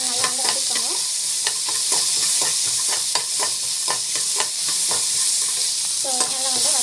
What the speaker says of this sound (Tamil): ஸோ நல்லா வந்து வதக்கிக்கோங்க.